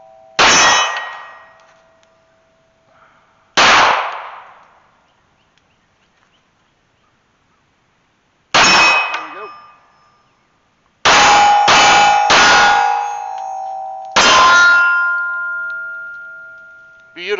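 Shots from a Sig Sauer 1911 MAX 9mm pistol strike a small steel target, each hit ringing out as a sharp metallic clang with a long decaying ring: two single hits, a pause, then a quick cluster of several more.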